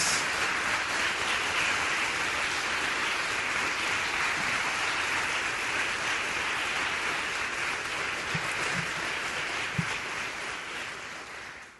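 A congregation claps steadily at a church service, a dense, continuous wash of many hands with no break, fairly loud and even throughout.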